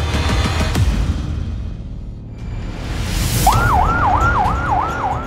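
A wailing emergency siren rises and falls in a rapid repeating cycle over rumbling traffic and street noise, fairly loud.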